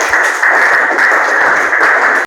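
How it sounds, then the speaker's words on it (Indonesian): Participants in a teaching session applaud themselves, a loud, steady wash of clapping heard up close that runs without pause and cuts off abruptly. "Tepuk tangan dulu dong buat kalian semuanya"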